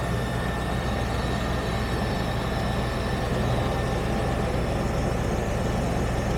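Range Rover P38 engine idling with a freshly replaced battery: a steady, even low rumble with a continuous drone, no revving or talk, held at a constant level throughout.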